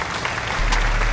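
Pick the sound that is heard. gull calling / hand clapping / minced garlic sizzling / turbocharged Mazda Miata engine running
hand clapping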